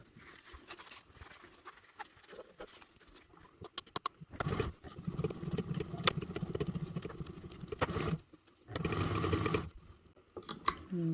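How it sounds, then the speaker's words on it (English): A home sewing machine top stitches a fabric slip pocket in bursts: a softer run, then a loud steady whirring stretch, a brief stop, and another loud burst, close and without talking. "we're going to top stitch it with a 1/8 seam allowance"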